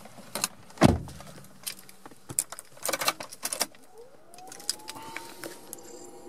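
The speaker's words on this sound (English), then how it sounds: "So I'll close the door." The door of a Subaru Legacy GT swings shut with a single solid, close thump, followed by lighter clicks and handling noises and a faint rising electric whine.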